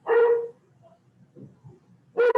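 A dog barks twice, loud and close, with one bark at the start and another near the end, separated by a short gap of faint low rustling.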